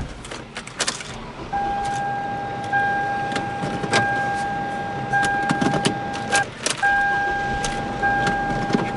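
Yellow Corvette driving in a video game, with a steady engine drone and tonal whine running through, broken by brief clicks and bumps, and no one talking over it.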